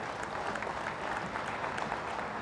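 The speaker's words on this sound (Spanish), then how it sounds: "Un aplauso, todos, vamos, el señor Jorge Martínez" Audience applause at a truck dealership opening and Lone Star truck launch event in Arequipa, a dense, even wash of clapping heard from some distance, fairly faint and unbroken, with almost no voices.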